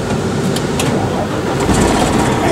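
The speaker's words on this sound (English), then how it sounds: "And you turn the engine on." Truck engine starting during a driver training pre-trip, a loud close rough mechanical roar that settles into a steady running engine.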